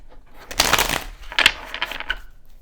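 Tarot cards being shuffled by hand, two brisk bursts of riffling and slapping close to the microphone, separated by a brief pause, with no talking.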